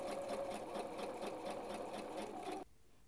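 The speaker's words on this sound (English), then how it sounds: "When I get to the bottom, I'm going to again do another back stitch." A sewing machine back stitching along the center back seam of a steampunk skirt, a fast steady mechanical whirring with rapid rhythmic needle pulses, close and continuous until it stops abruptly.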